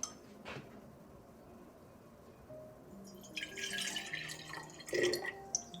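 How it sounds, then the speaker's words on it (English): Water is poured into a pitcher of lemonade made with lemon juice, agave syrup and basil simple syrup, giving a soft trickle that grows into a louder splashing pour partway through, close by in a quiet kitchen. "finishing off with some water to dilute it all"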